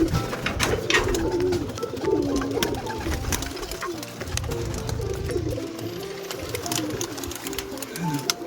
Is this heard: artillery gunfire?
no